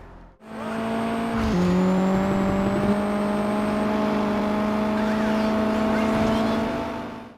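In the Juiced 2 racing video game, a race car's engine howls with a steady high-revving drone that drops briefly at a gear shift, then holds loud and continuous before cutting off.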